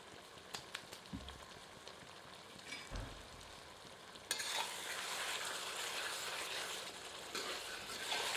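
Chicken curry mixed and roasted in a copper lagan, quiet clinks and a few stirring knocks at first, then a sudden broad sizzle swells up and holds steady close by.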